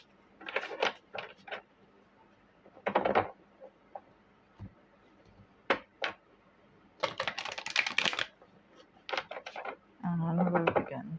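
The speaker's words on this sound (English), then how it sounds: "And we'll shuffle these cards first." Repeated papery riffling and soft clacks of a tarot deck being shuffled close up, in irregular bursts with brief pauses between them.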